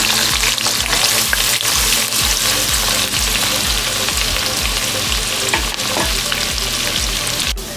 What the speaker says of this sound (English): Now that the oil is hot, I am going to put in some sliced onion